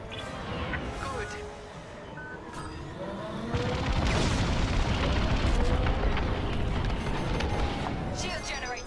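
A shield generator blows up in Star Wars: Squadrons, a loud rumbling boom that swells midway and keeps roaring under the space-combat din, with voices talking over it.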